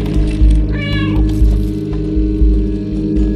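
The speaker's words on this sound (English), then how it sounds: "when I meow, it lights up" A cat meows in the PS5 video game Stray, one clear, close meow rising and falling over a loud, pulsing low game hum.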